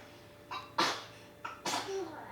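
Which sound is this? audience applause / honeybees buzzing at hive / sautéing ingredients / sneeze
sneeze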